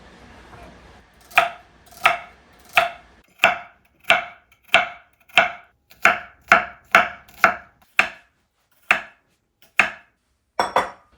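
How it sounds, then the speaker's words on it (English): A knife chops carrots, celery, garlic and onions steadily on a cutting board, about sixteen crisp, evenly spaced strikes, close and clear with no talking. "We're going to start by chopping up some fresh carrots, celery, garlic, and onions"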